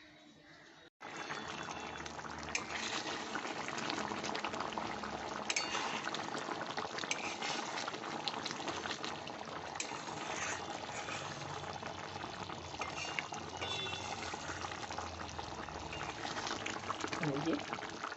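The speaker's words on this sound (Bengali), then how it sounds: "এই যে এটা ফুটছে বেশ ভালো" A cashew and poppy seed paste for matar paneer bubbles vigorously in water in a pan, a dense, steady boiling sizzle with popping that starts after a brief pause and continues close and unbroken.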